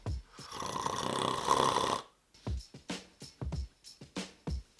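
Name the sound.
person snoring, recording from a snore app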